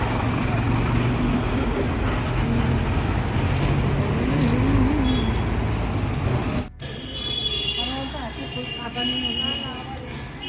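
Busy street traffic in Kolkata heard while crossing the road, a dense, loud rumble of passing vehicles and engines with horns, under nearby people talking, briefly cut off midway.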